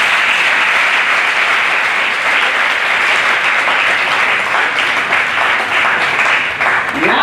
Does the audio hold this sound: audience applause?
yes